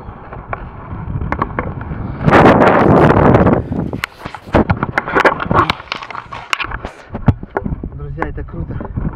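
Strong wind buffets the microphone in loud gusts near a clifftop in Sudak, with someone talking over the rushing noise.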